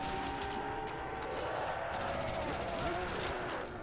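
Thompson submachine gun firing steadily in a custom Call of Duty zombies map on a farm, a dense continuous roar of shots mixed with game noise and a voice talking over it throughout.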